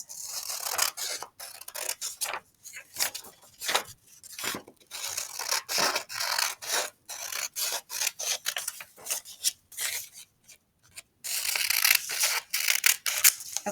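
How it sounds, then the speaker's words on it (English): Scissors cut out paper for a rocks and minerals lapbook, with close, uneven rustling snips and crisp paper rubbing that come in irregular bursts with short gaps between them. "Let's cut out the big box."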